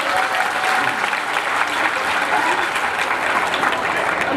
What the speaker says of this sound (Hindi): एक बार अगर आप और सुनना चाहते हैं तो मुझे भरपूर तालियों से मन दे दीजिए।